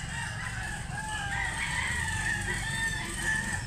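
A white Kelso rooster with yellow legs crows at a Cebu fowl sale, its drawn-out call steady and fairly close across the whole stretch, with a low background rumble beneath and no talk.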